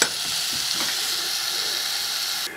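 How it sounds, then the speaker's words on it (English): Beef for rendang browns in a pan with a constant crackling sizzle and some soft stirring, with no voices. "In with the meat. And we'll just coat that and brown it for about 15 minutes."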